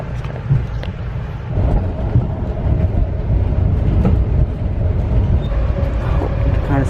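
An Amtrak passenger train riding from the inside: a constant loud low rumble of wheels and carriage with rattling, heard close and unbroken.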